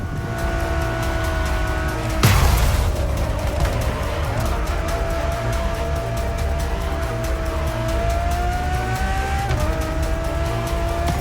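A Ferrari Enzo supercar driving in the video game The Crew Motorfest, with a loud, steady engine drone shifting pitch and a sharp burst of tire noise early on, sustained and close throughout.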